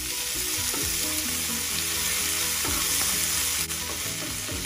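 Shrimp paste, bagoong alamang, sautéing in a pan with onion, a loud continuous sizzle close up with scraping stirs from a utensil, and no one speaking.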